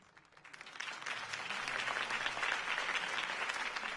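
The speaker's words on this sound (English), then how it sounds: "If only Mr. Wayne, my campaign's largest backer, could have heard that applause" Applause for a campaign speech by Harvey Dent swells quickly from a few claps into sustained clapping from a large crowd, steady and moderately loud throughout.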